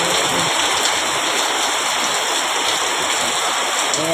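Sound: heavy rain

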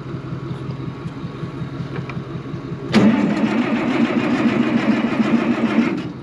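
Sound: farm tractor engine cold starting and warming up

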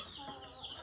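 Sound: chickens clucking in a mini zoo

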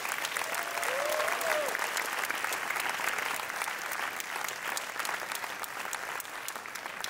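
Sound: audience applause at school sports awards

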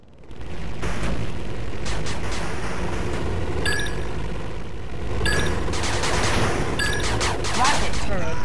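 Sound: machine gun fire in video game 8-Bit Armies

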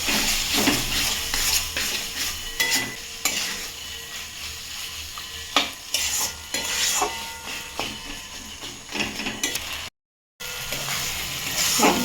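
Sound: adding lentils to sizzling spices and stirring to mix

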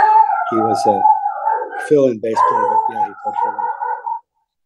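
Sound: dog barking

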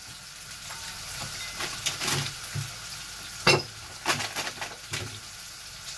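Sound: food frying in a pan

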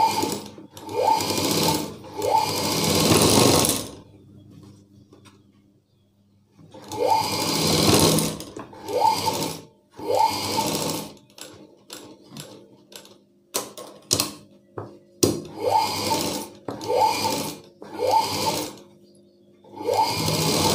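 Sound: sewing machine stitching cloth

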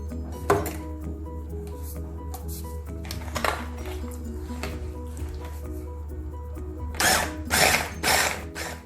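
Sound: electric mixer blending cheesecake ingredients with labneh cheese

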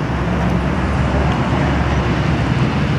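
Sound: street traffic in Athens

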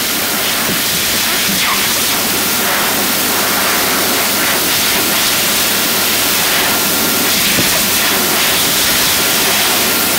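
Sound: Dyson V hand dryer running

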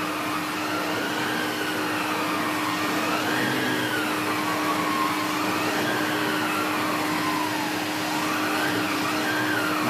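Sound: Numatic Henry HVR200A vacuum cleaner running on low

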